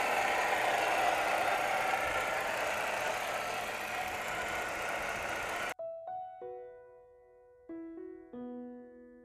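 A 2006 Chrysler 300 Touring's 3.5-liter V6 engine idles with a steady, even rumble for several seconds, then cuts off abruptly to clean musical tones.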